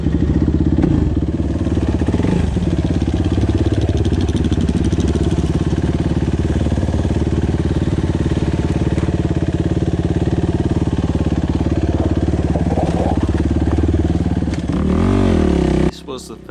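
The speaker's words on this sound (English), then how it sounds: "We're here to ride dirt bikes." A Yamaha WR450F dirt bike engine runs close and loud, a continuous throaty drone with a slight rise in revs before it cuts off abruptly near the end.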